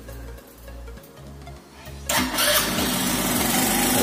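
A motor engine cranks briefly with a low starter rumble, then fires and settles into a loud, steady running note close by, heard alone.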